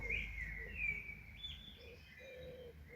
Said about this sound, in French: C'est un oiseau, il a pêché.